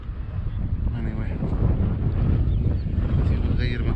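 Strong wind gusting at sea during a kayak fishing trip, a steady loud rumble of buffeting air and water noise throughout, with faint traces of a voice underneath.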